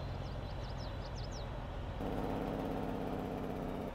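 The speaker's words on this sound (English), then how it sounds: "Sounds like a little old tractor, Westy." An old Ferguson T20 tractor engine in the Farming Simulator 22 game, a steady low putter that runs throughout. Its tone shifts partway through, and faint high chirps sit above it early on.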